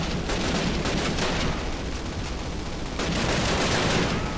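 Sustained gunfire from the Call of Duty video game, a dense, continuous crackle of rifle and machine-gun shots with rapid bursts filling the whole stretch and no pauses.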